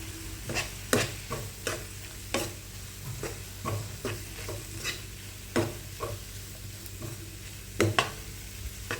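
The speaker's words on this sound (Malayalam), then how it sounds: "മുളക് പൊടി മഞ്ഞൾപ്പൊടി ഇടാം നന്നായിട്ടൊന്ന് ഇളക്കി കൊടുത്തിട്ട്" Paneer masala with chili and turmeric powder is stirred in a pan, giving rhythmic spatula scrapes and knocks over a low background sizzle, close and fairly clear.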